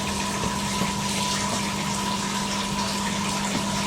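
Greyish water runs steadily from a temporary cleaning machine into a sink, a continuous close gush with a steady pump hum underneath and no talking.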